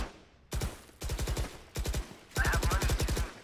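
Rapid automatic gunfire from the shooter game Valorant, fired in four tight bursts of sharp, evenly spaced shots with short pauses between, loud and close.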